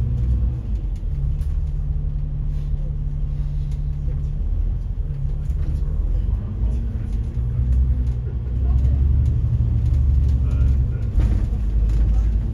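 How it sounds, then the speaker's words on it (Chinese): Steady road traffic along Queensway in Hong Kong, heard from inside a bus travelling from Central toward the Peak, with a continuous low engine rumble and passing vehicles throughout, fairly loud and even. "这里呢是香港的金钟道，这条道上车来车往的啊"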